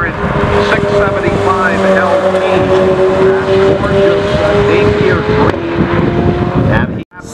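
A Bugatti hypercar races along a track, a loud, continuous engine roar with heavy wind buffeting on the microphone, ending in an abrupt drop near the close.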